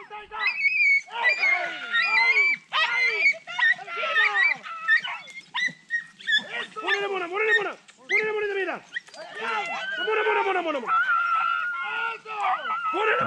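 Dogs on a rabbit hunt with greyhounds and rabbit dogs barking and yelping repeatedly at close range, a busy string of excited calls mixed with people shouting.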